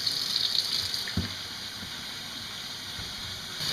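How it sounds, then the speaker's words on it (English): Tap water runs from a faucet into a bottle to rinse out soap, a steady close hissing gush with a brief knock partway through. "put it right underneath that faucet and let that water run and get it all rinsed out and get rid of all the soap."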